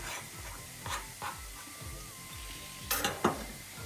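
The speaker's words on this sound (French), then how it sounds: "j'ai mes légumes qui commencent à frétiller un petit peu dans la poêle" Vegetables for a vegan steak sizzle gently in a frying pan, with a steady soft crackle, repeated low scraping stirs, and a couple of sharper utensil clicks near the end; no one speaks.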